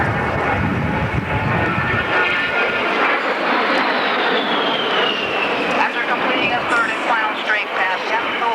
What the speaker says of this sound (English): Two A-10s working together, as would normally be the case, could deliver ordnance on target every 8 to 10 seconds